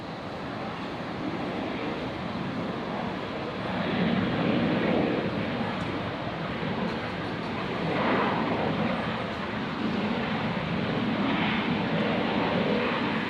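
Qantas airliner at Brisbane Airport, a broad distant roar of jet engines that swells and eases twice over a steady wind-like rush, with no voices over it.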